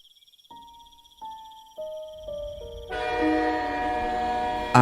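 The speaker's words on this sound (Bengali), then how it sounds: "আর বাকি 5টা দিনের মতোই আজও রাত 8টার লোকালটা মধুপুরে এসে দাঁড়ালো।" A local train pulls into a station at night, heard as a sound effect: rising horn-like tones layer up, then rail and carriage noise swells into a loud, dense rumble with high squeals.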